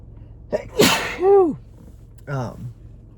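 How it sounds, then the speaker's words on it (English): A single sharp sneeze bursts out, followed by a short exhale and a breathy vocal sound, then a brief voiced noise afterward. "So, I have to sneeze."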